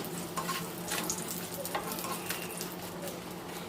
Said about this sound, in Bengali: ঘিটা দিয়ে এখন সুন্দর করে এটাকে ভেজে নিচ্ছি